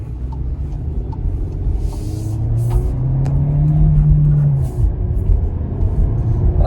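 A 2020 VW Jetta R-Line with the 1.4T engine and six-speed manual running, a steady low engine drone and road rumble heard from inside the car, swelling slightly in the middle without any speech.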